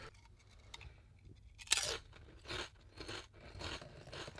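Crisps are eaten close to the microphone: a sharp crunch of biting followed by several quieter irregular crunches and chewing sounds, faint overall, with no talking.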